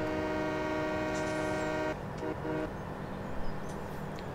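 A train in Farming Simulator 2017 sounds a long steady horn blast that cuts off, followed by two short toots over a continuous low engine rumble.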